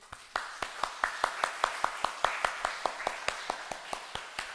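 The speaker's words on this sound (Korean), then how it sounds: "여러분 박수 한번 쳐줄까? 박수?" A church congregation claps in steady unison rhythm during a service, about twenty evenly spaced sharp claps ringing out clearly over a faint room background with no talking.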